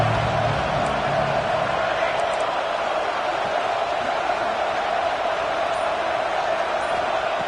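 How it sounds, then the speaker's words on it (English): A stadium crowd cheers and roars steadily in a college football video game during an Orange Bowl matchup, a dense, continuous wash of noise that holds at an even level from start to finish. "the crowd really getting into it"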